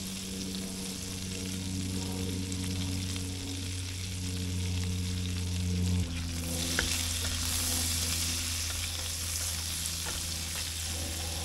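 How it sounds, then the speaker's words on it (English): Butter melting and slowly browning over low heat in a pan, for sage brown butter with oyster mushroom ravioli, gives a steady, soft sizzle and frying hiss that brightens and grows livelier partway through, with no talk. "we're just gonna melt that butter down and let it brown a bit"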